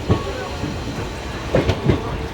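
Teesta Torsa Express train number 13141 pulling out of Sealdah station, heard from on board as a steady rolling rumble with a few soft rail clanks, with faint talk underneath.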